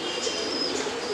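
Pigeons cooing softly in a loose, continuous murmur, a few bird calls rising over a steady hum of background noise, with no voices.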